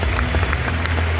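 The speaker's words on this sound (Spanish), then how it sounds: "¡Fuertes los aplausos!" Guests at a quinceañera party applaud in a steady, dense patter that lasts the whole moment, with a low music hum underneath.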